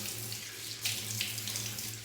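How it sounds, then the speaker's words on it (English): Warm water running steadily from a sink tap, a continuous close hiss with brief splashy surges as water is cupped and splashed onto a bearded face, no talking. "And just splash a little water on."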